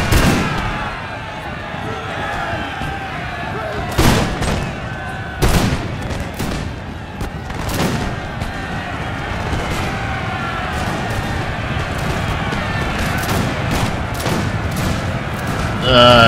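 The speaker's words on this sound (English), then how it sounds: "You guys are shooting." Musket volleys crackle continuously across a battlefield in the strategy game Empire: Total War. Dense massed gunfire comes in waves, with several louder bursts standing out. Voices can be heard faintly underneath.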